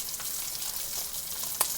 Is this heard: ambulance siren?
no